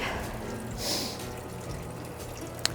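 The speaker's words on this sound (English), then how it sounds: "see how the water keeps dripping off?" Water dripping and trickling from an unscrewed filter housing outdoors, a soft continuous wet patter with a brief splash near the start and a sharp drip near the end.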